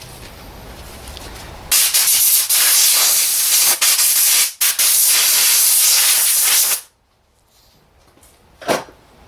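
A compressed-air gun blasts loudly for several seconds with brief gaps, blowing brake cleaner off the rear brakes of a 2011 Mini Cooper, then stops, followed by one short, sharp puff.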